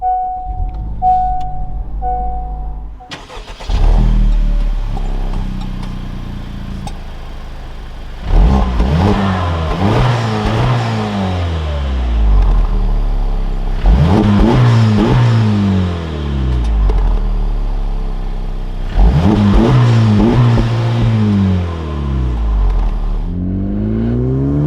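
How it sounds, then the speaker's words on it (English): A 2024 Honda Civic Type R starts with a sharp crank and catch, then settles into a close idle and revs hard three times in long, loud sweeps, each falling back to idle. "inside the Civic Type-R, keep my foot on the clutch, we can go ahead and fire it up"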